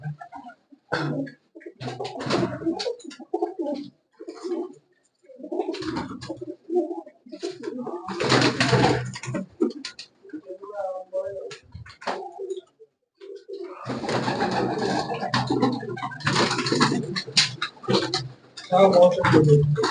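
Pigeons coo in low, repeated bursts, mixed with people talking nearby; the cooing and chatter overlap through most of the stretch.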